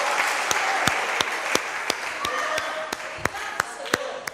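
A church congregation claps along together, a steady wash of applause punctuated by sharp, evenly spaced loud claps, roughly every third of a second.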